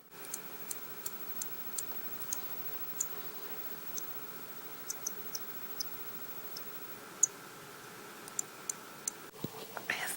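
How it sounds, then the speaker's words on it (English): Eggs giving off quick, faint ticking clicks at an uneven pace, all through a quiet indoor room with a low background hiss and no voices. "My eggs are making a noise."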